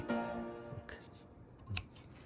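Scissors cutting the seam allowance of a tailored jacket's fabric, heard up close as a few faint, brief snips and clicks in a quiet room.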